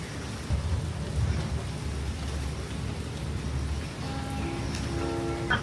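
Heavy rain falls steadily in the mountains at a jungle safari camp, a dense continuous hiss close by with low rumbling underneath, and a faint tonal hum joins near the end.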